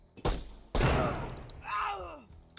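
Grenade blasts and gunfire from the tactical shooter game Door Kickers 2: two sharp, loud bursts with ringing decay in quick succession, followed by a rising whine and a sweeping tone as the noise fades.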